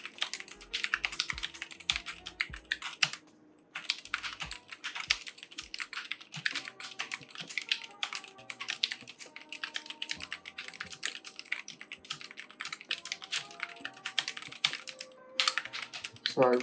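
Brisk typing on a Logitech G915 or SteelSeries Apex Pro mechanical keyboard, a dense run of sharp close key clicks and clacks with one brief pause near the start and no talking.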